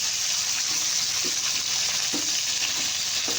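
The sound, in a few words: large fish pieces frying in black wok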